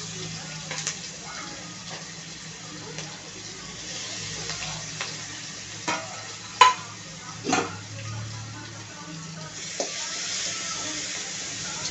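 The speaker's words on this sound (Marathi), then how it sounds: "छानपैकी परतून घ्यायचं आहे." Green chili and garlic paste stir-fried in hot oil with curry leaves and mustard seeds for a village-style baingan bharit, a low steady sizzle broken by several sharp scraping stirs of a spatula against the pan, close by.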